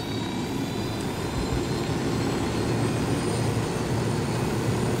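Steady, droning helicopter engine noise in Ghost Recon Wildlands, with a low rumble and faint high whine, continuous and fairly distant, with no talking.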